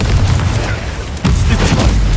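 A Confringo fire-blast spell in Hogwarts Legacy on PS5 erupts as a loud, sustained booming rumble, with a brief dip and then a renewed surge of explosive roar about halfway through.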